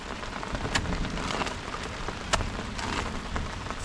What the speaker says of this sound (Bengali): তো বৃষ্টি শুরু হচ্ছে